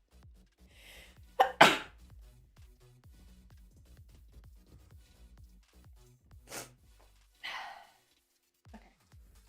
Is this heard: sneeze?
yes